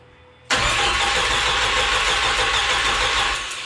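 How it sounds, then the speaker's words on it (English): A boosted 3.0L boat engine is cranked over for oil pressure, a loud, steady starter-driven churn that kicks in abruptly after a brief quiet moment and runs on continuously without catching. "I'm just gonna crank it for oil pressure."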